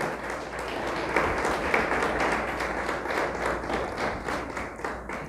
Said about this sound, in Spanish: ¿Le damos fuerte el aplauso a Dios?